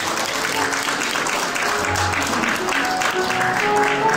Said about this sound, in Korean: 여러분 계속해서 큰 박수 부탁드립니다